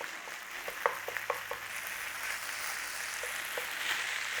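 Beef mince, barley and onions stirred in a hot skillet, giving a quiet, steady sizzle with a few soft scraping clicks near the start.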